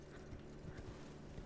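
A horse in the video game Elden Ring trots along, its hooves clip-clopping in a quick, even rhythm, faint and low beneath a soft background hum.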